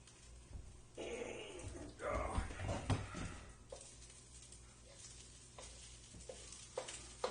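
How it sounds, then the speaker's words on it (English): Teriyaki stir-fry rice with diced ham, vegetables and peanuts sizzles softly in a wok on very low heat, a faint crackle with a few scrapes and clatters, under quiet background sounds. "leave it in the wok on a very low temperature. Just simmering for about an hour."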